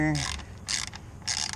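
Ratcheting Torx 25 driver working a fastener loose under a 2011 BMW 335 diesel, near the fan during EGR cooler work; three bursts of rapid clicking separated by short pauses, fairly close and alone.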